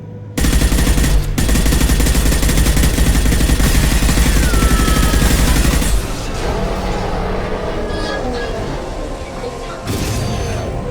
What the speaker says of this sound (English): Shoot the injection tubes.